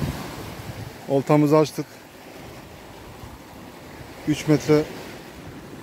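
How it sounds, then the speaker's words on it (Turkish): Calm, gently moving sea at a shore in the early morning, a steady wash of small waves and wind noise running throughout, with someone speaking briefly twice over it. "Çok hafif hareketli, güzel bir deniz var."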